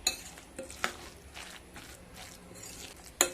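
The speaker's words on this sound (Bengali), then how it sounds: "জিরে দিয়ে আবারও ভালোভাবে মিশিয়ে নেব।" Leftover cooked rice mixture being mixed by hand with cumin seeds, giving soft, faint squishing and stirring noises punctuated by a few light clicks, close by and quiet.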